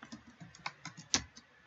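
Keystrokes on a computer keyboard, an exclamation mark and then the enter key, sound as a few soft, close clicks with one sharper, louder tap near the end in a quiet room.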